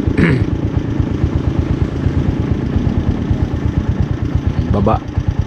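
A motorcycle engine idles and runs close by with a steady, rapid low chugging throughout. A short voice sounds near the start and again near the end, rising over the drone.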